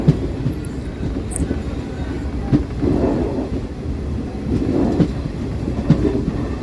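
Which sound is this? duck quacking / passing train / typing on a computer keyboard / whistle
passing train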